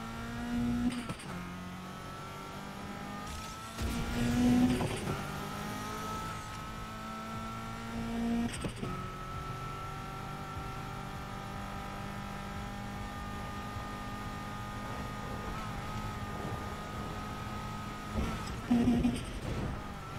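Race car engine in Need for Speed Heat holding a steady high drone, with sharp gear-change surges and brief revving bursts, loud and close throughout, a voice faintly present beneath it.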